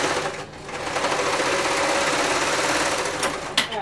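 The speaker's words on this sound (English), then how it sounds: "I'm going to reserge it to where it's the right side" A serger overlock machine runs in one fast continuous whirring stitch through sweater fabric, close and loud, ending with a couple of sharp clicks.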